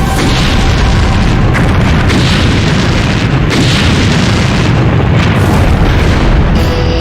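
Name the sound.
Titan IV rocket explosion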